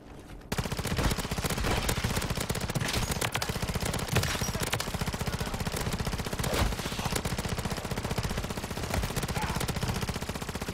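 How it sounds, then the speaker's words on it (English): Enemies in MW3 Zombies keep up relentless, unbroken gunfire, a dense, loud stream of rapid shots that runs steadily without pause for the whole stretch. "They're just constantly just shooting at you."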